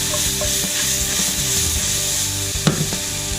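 Mushrooms fry in a pan with a steady, close sizzle and a few light stirring knocks.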